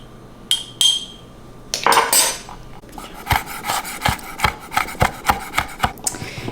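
A knife chops three or four Calabrian chilies for a sauce, giving a steady run of sharp, close taps on the board, about two per second, after a few scraping rubs and a clatter at the start.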